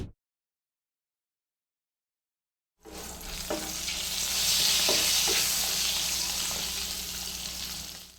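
Stuffed green chillies stirred and frying in a pan, a steady close sizzle with light scraping of the spoon, starting abruptly after a silent opening.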